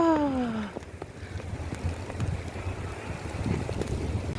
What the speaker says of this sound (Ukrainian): О, у нас така завірюха починається.